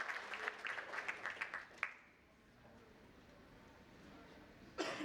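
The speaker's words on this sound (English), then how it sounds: "Can we have a huge round of applause for him?" A short burst of audience clapping greets the moderator at an insurance-industry panel on AI and data analytics in underwriting. It is moderately faint and dies out after about two seconds, leaving near-silence before a brief noise near the end.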